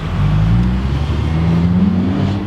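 A Volkswagen Corrado VR6 pulls away, its engine a loud, close, steady hum that rises gently in pitch as the car accelerates, with continuous road and cabin rumble.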